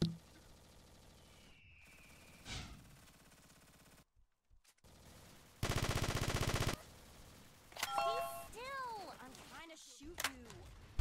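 Video game gunfire crackles in rapid bursts, with machine-gun volleys, a loud sustained spray of shots midway and scattered single reports, interleaved with a player's talk and other game sounds.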